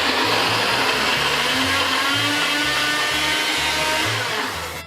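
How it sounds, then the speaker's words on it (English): A kitchen blender grinds nuts and panko breadcrumbs, its motor whirring loudly and steadily, with rhythmic chopping pulses throughout as it runs alone before slowing at the end. "I have mixed my nuts and my panko in my blender"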